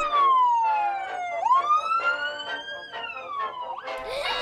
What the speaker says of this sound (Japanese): 最初に登場したのは救急車。